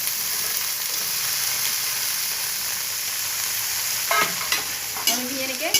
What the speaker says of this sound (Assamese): এইখিনি এতিয়া মই ইয়াতে দি দিম। এয়া মই ভাজিব দি দিলোঁ।